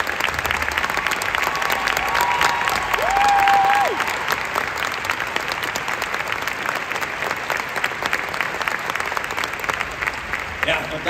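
Concert audience in Zürich applauding at a Disney 100 orchestral concert, loud sustained clapping from a large hall with cheers and a whistle early on, steady and dense throughout.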